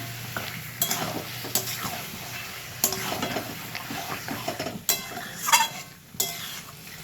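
Potatoes with chilli powder and meat masala frying in a pan, stirred with a metal spoon that scrapes and clinks at irregular intervals over a steady close sizzle; no talking.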